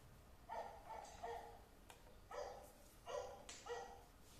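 A dog barks in a series of short, moderate barks, roughly five or six with brief gaps, fairly faint and alone.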